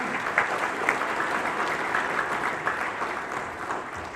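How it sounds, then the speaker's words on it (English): Audience applause at a climate finance summit after a statement announcement, a broad steady wash of many hands clapping, even and sustained throughout with no speech on top. "I hope that applause was for yourselves"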